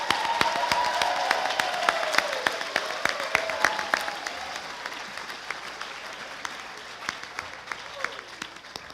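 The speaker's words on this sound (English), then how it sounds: "Please join me with a big round of applause to recognize their dedication to the sport." An audience applauds at the 2019 UBC Okanagan athletics awards banquet with steady hall-filling clapping and a few whoops early on. The applause gradually fades over several seconds while scattered claps continue.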